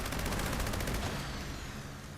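Gauss minigun in Fallout 76 firing a dense, continuous stream of rapid shots, loud and close, the burst easing off slightly toward the end with no voices.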